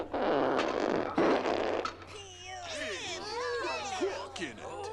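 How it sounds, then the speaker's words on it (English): A long, loud fart rumbles up close in The Garbage Pail Kids Movie, followed by squeaky, warbling sounds that wobble up and down in pitch. "By a frickin' fart?"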